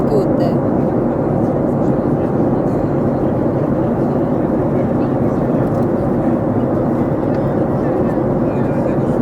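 Steady, loud airplane cabin roar during a turbulent flight from Goa toward Delhi in bad weather, a dense continuous broadband rumble with no breaks throughout.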